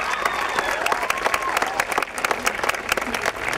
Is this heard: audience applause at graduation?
yes